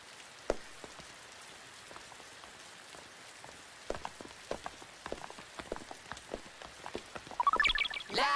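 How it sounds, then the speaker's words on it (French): Light rain falling in an anime scene, soft scattered drops tapping at an uneven pace over a quiet hiss, with a short burst of chirpy high tones near the end. "La pluie, la pluie, la pluie, la pluie."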